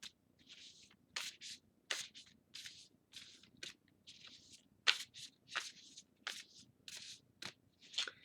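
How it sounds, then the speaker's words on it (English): Quick crisp riffles of a deck of cards being shuffled, repeated bursts of fluttering card snaps close by, with no talking. "I'm going to do one more side shuffle"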